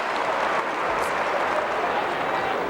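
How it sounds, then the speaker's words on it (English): A college basketball crowd, Kansas against Nebraska in 1996, applauds as player Pierce leaves the floor before halftime, a broad continuous roar of clapping and cheering that fills the arena throughout. "a good round of applause for Pierce as he comes off the floor"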